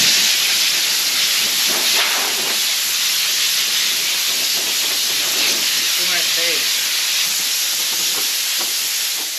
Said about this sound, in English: We just have to wipe it off or blow it off with compressed air, get all the sawdust out